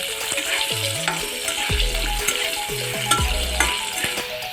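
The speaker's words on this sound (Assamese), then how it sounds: "ইয়াতে মই আলুখিনি ভাজি লৈ আছোঁ" Potatoes fry in oil in a wok with salt and turmeric, giving a steady close sizzle broken by several scraping, clattering stirs of the spatula.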